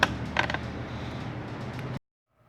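An X-Carve CNC machine switches on with a few sharp clicks, then a steady mechanical whir and creak runs for about two seconds before stopping abruptly, close and moderately loud, with no talking.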